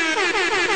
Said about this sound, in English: Here we go. Air horn.